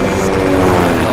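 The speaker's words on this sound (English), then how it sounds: "Captain Roberts has been told to show PC Brandon just what this helicopter can do." Police helicopter in flight, a loud, steady, close rotor and engine drone with a dense rumbling throb that fills the whole short stretch, with no voices over it.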